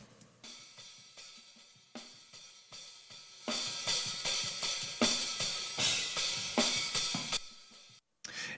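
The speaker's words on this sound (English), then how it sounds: "So we got some hats. I'm really not doing anything to them." Isolated hi-hat cymbals from a drum mix tick in a steady pulse, quiet at first, then brighter and louder in the middle with regular accented hits, before a brief gap and a final burst.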